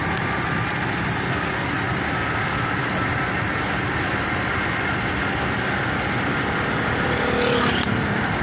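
Motorcycle riding along a road in Pakistan at about 50, a steady loud roar of engine and wind noise filling the whole stretch without pause or talk.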